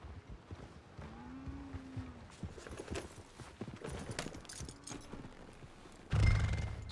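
Horse hooves walking slowly in the Red Dead Redemption 2 video game, a quiet, irregular clip-clop of steps with faint ambient noise and a brief louder rustle near the end.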